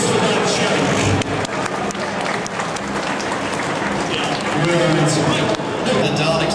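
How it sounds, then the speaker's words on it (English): A crowd claps loudly and steadily at a Dalek show in the Fleet Air Arm Museum, a dense, continuous roar of hands lasting throughout, with voices mixed in. "Big round of applause for that show."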